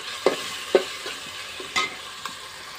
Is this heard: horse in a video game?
no